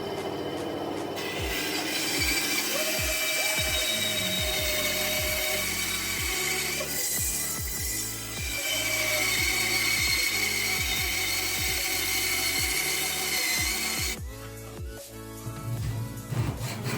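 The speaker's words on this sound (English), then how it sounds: "I'm going to the bandsaw." A bandsaw cuts wood in a workshop: a steady machine whir with a repeated low rhythmic thumping as the blade feeds through the piece, loud and close, with no talking.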